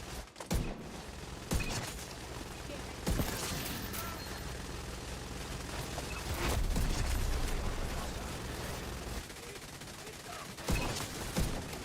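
Gunfire in The Division 2, bursts of rapid shots and loud blasts cracking out repeatedly amid a dense wash of combat noise, near and intense across the stretch.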